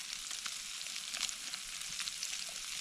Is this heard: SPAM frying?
yes